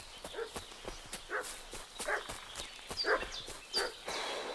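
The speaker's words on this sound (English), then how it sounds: "Ó, o cachorro tá latindo" A dog barks repeatedly in Kingdom Come Deliverance 2, sharp barks coming in an uneven rhythm over soft hoof clops and footsteps, moderately near and fairly quiet.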